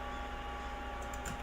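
Soft, rapid clicking of keys being typed on a keyboard, faint and continuous beneath a steady background hum.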